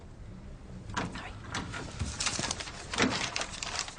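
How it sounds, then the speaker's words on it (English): An office door is shut at a police station, making a muffled thud and rattle among soft shuffling and other room noises. The sounds are moderately close and no one speaks. "And close the door."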